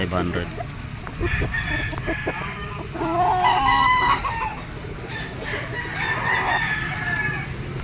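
Gamefowl roosters, including stags and a white-legged henny, crow loudly and close by with clucking between calls, while someone speaks in the background.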